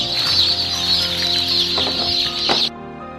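Chickens cluck steadily in a close, busy chorus with scattered squawks, the flock raised in closed cages, the sound carrying evenly for under three seconds and then cutting off abruptly.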